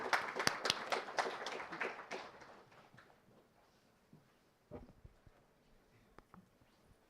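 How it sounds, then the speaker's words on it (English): Conference audience applause, a burst of clapping from a modest crowd that tapers off within a few seconds, leaving a few scattered claps and room noise. "let's give a round of applause"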